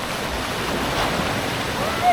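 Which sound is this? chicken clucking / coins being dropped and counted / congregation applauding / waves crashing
waves crashing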